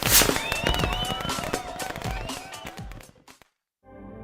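Fireworks sound effect in a radio advert for a fireworks store: a dense burst of crackling pops and bangs with whistling tones, loud at first and fading before a short pause.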